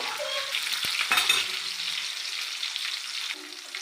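Chopped onion sizzles in a hot pan while okra curry is being cooked, giving a steady, close hiss with a few faint clinks of a utensil and no voices.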